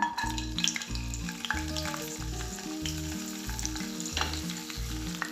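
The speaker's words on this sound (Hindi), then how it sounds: "तो सबसे पहले मैं बादाम फ्राई करती हूँ।" Almonds fry in a little cooking oil for Afghani Kabuli pulao, giving a steady, close sizzle with bright crackle. Soft scraping and clinks come through a rhythmic low rumble, with no voices.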